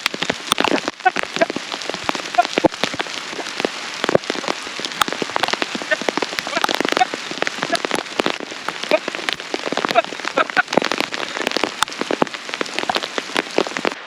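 Heavy hail mixed with rain pelts a hillside field during ploughing, a dense, loud, continuous patter of sharp clicks and drumming impacts with no pauses and no voices.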